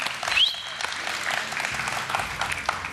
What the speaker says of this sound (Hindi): थोड़ी तालियां और बजा दें